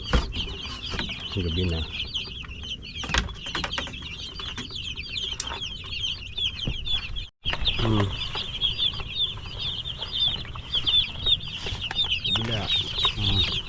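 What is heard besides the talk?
chicks and chickens clucking at feeding time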